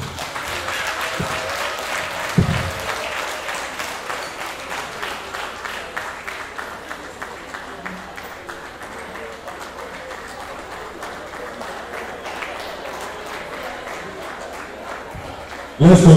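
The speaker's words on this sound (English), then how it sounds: "Let's continue to applaud the speaker." Convocation audience at a university ceremony applauding a speaker with sustained, fairly even clapping that carries on for most of the stretch, thinning slightly toward the end.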